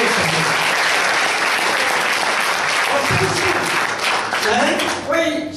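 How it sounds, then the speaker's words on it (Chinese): Church congregation applauding together in loud, sustained clapping that fills the whole stretch, thinning slightly near the end as a few voices and tones come through. "所以为着你们的教会，为着你们的牧师，把掌声荣耀归给你们的神"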